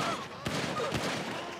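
Gunfire crackles during a police shootout in GTA 5 with the LSPDFR mod, with a few sharp shots cutting through a dense wash of background noise.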